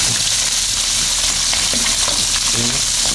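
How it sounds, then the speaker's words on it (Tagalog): Kabasi fish frying in a pan of hot oil, a steady, dense sizzle with crackling pops throughout, close and loud, no voices. "naisipan ko po magprito dahil na-miss po natin ang mga kabasi"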